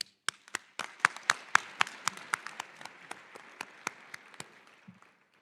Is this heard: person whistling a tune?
no